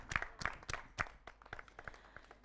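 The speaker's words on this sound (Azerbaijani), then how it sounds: "Alqışlar." Audience applause at a staged event with children, heard as a few quiet, scattered claps that thin out and fade over a couple of seconds.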